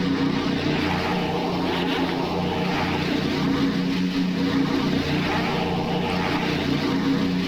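Multiple piston engines of a B-24 Liberator drone steadily in a flight simulator game, a continuous dense low rumble with no break and no talk.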